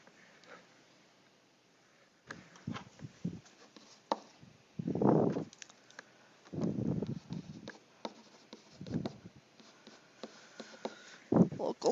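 Pencil or pen writing notes on paper during a pre-calculus lesson, a series of soft scratchy strokes in short bursts, fairly close, with quiet pauses between them and no talking.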